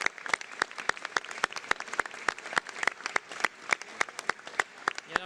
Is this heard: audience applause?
yes